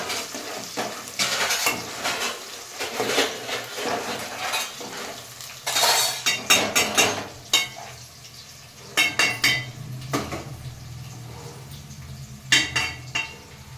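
A spoon stirs biryani ingredients frying until golden in a metal pot, with repeated clanks and scrapes in irregular bursts over a low sizzle, heard up close without talk.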